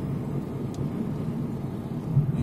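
Car speeding up on a road during a driving lesson in Khabarovsk, a steady low engine rumble with faint road noise throughout, no voices.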